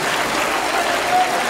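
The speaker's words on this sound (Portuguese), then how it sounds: "melhor salva de palmas para a palavra de Deus" A church congregation applauds loudly and steadily, the dense clapping of many hands filling the whole moment.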